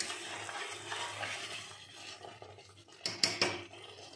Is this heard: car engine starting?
no